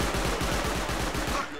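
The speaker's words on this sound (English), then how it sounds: "Oh, that's a turret." An auto turret in the game Rust fires a rapid, evenly spaced burst of loud automatic shots, close and continuous for under two seconds.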